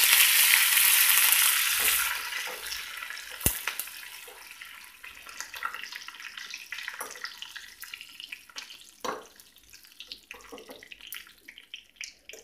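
Curry leaves drop into hot oil for a tempering, giving a loud burst of sizzling that fades into a steady, lighter crackle and spitting, with a few sharp pops along the way.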